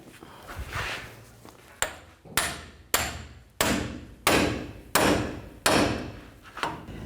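A hammer strikes a pickle fork wedged between the lower ball joint and steering knuckle of a 2007-2014 GMC Sierra 3500 HD, with about seven loud, sharp metallic blows at a steady rhythm, each ringing briefly.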